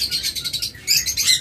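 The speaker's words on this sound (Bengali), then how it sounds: "আবার এখানে দেখতেছেন চমৎকার এক জোড়া লাভ বার্ড।" A pair of lovebirds chirp in quick, shrill bursts, close and lively, with a short pause before a denser flurry of calls.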